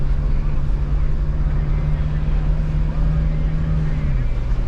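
A 2.8 litre four-wheel drive engine runs in economy mode in the high country, giving a loud, steady low drone with rumbling road noise throughout that drops slightly in pitch near the end.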